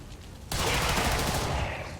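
A burst of weapon fire in the video game XCOM 2, erupting sharply after a brief quiet moment and rolling on as a dense, loud, sustained blast that tapers slightly.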